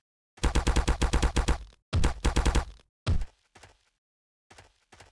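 Gunfire in the horror video game The Happyhills Homicide: a rapid burst of about a dozen loud shots, a second shorter burst, then a few single shots and faint trailing clicks.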